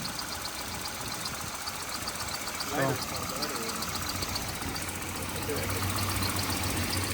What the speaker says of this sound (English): So we are willing to trade this Volvo engine, purrs like a kitten.